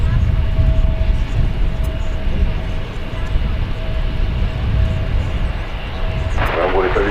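A plane departing from DFW Airport rumbles in a steady, broad roar throughout, loud and fairly near, with a faint engine tone over it and a voice talking partway through.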